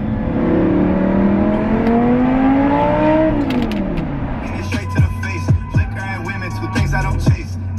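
An Audi R8 fitted with a new exhaust system revs up in rising whining sweeps, then drops to a low idling burble punctuated by several crackling pops, heard close from inside the car.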